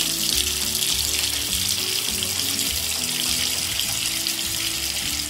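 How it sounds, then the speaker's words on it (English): Water from a toy bathtub's shower head pours into the tub, a continuous splashing hiss with bubbling, gurgling undertones that stays steady and fairly close throughout. "First, I'll raise the shower head to fill up the tub."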